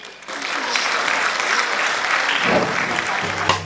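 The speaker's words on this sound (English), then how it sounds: "Let us give a huge round of applause for these proud accolades of PIS Nerul CBSE." An audience at a school annual day function breaks into loud, sustained applause, a dense and even roar of clapping that holds steady, with a brief sound near the end.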